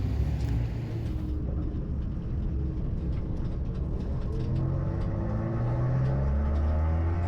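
Race cars in a qualifying session pass by, among them a Rocket Dog car and a Team Octane Mazda 2, heard as a steady, loud engine drone and road rumble throughout, with no clear individual pass-by peaks.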